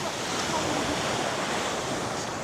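Sea waves wash in at Nai Harn Beach, Phuket, a loud, continuous rush of surf with some wind buffeting the microphone and no clear break.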